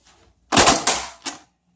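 A foam dart blaster fires a mega dart with a sharp, loud pop-and-whoosh burst lasting about half a second, followed by a short second snap as the dart strikes, then quiet.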